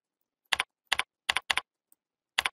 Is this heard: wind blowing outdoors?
no